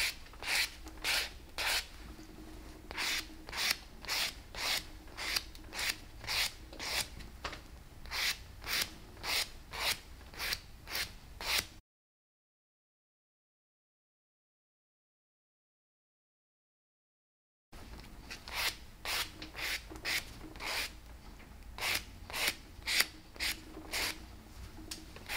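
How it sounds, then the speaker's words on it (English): A buffing block rubs quickly across fingernails during a barber's manicure, making close, soft, rhythmic scratchy strokes in fast bursts, broken by a silent pause midway. "Now you are ready to buff the five nails."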